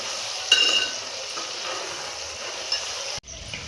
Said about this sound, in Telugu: ఇప్పుడు ఇందులో అల్లం వెల్లుల్లి పేస్ట్ మొత్తం పచ్చి వాసన పోయేదాకా ఫ్రై చేసుకోవాలి